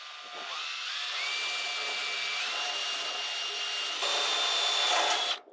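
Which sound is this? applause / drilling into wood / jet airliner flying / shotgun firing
drilling into wood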